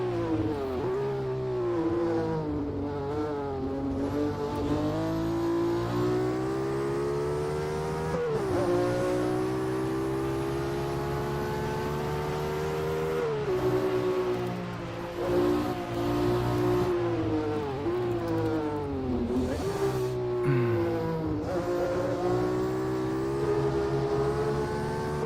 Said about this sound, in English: Wow, the sound of these cars.